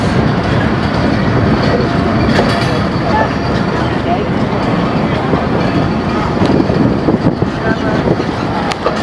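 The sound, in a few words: Shah Latif Express train, locomotive 9026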